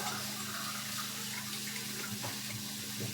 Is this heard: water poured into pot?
yes